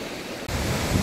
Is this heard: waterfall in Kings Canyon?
yes